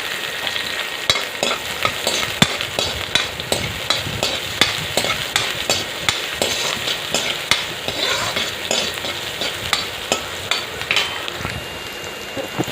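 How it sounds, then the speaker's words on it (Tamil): Small shallots and garlic sautéing in hot oil for a brinjal tamarind curry, a dense close sizzle broken by regular scraping stirs of a ladle against the pan, steady and loud throughout. "சின்ன வெங்காயம் பூண்டு நல்லா வதக்கிக்கணும்"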